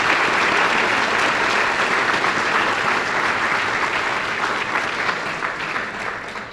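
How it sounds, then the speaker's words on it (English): Sustained audience applause fills a memorial gathering, steady and full throughout before easing slightly toward the end, with no voices above it. "I would like to give them a tremendous round of applause for that"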